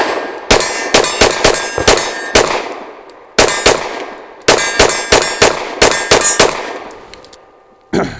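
Rapid bursts of pistol fire from a Grand Power Q100 Mk23 rotating-barrel handgun, loud sharp cracks in quick strings of shots with brief pauses between groups, each shot ringing with a metallic clang, no talking.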